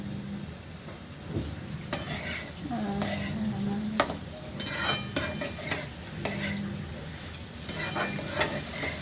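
A spoon scrapes and stirs carrot fry with grated coconut in a hot pan, sizzling softly beneath repeated clinks and scrapes of metal against the pan in an uneven rhythm.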